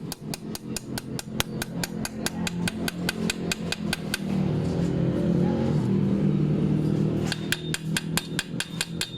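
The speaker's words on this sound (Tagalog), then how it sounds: "pukpukin natin konti" A hammer taps an idle gear into place, giving a rapid, even series of sharp metallic knocks. A few seconds of rumbling engine-like noise interrupt the knocks before the steady tapping resumes.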